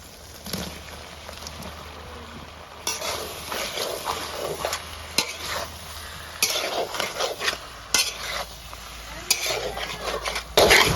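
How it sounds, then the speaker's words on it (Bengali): Boiled taro with crab and spices being stirred and fried in a pan, with a steady sizzle under repeated scraping and clattering of a spatula against the pan, loud and close throughout. "কচু দিয়ে খুব সুন্দর করে মশলা সাথে ভেজে নিয়েছি"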